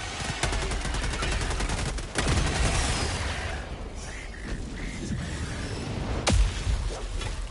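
Gunfire in Helldivers 2 opens with a rapid automatic burst, then single sharp shots land a few seconds apart over a rumbling battlefield background.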